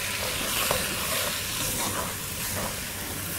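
Chicken with flour and curry paste sizzles steadily in a pan while being stirred, a continuous close frying hiss with faint scraping.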